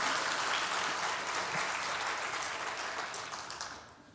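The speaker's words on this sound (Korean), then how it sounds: "박수 한번 하겠습니다." A church congregation at a Sunday worship service claps together in a full, sustained round of applause that holds steady and then tapers off toward the end.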